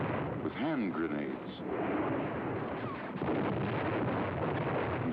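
Pacific war battle scene with heavy, continuous artillery booms and gunfire rumbling together, dense and loud, with a voice speaking over the barrage.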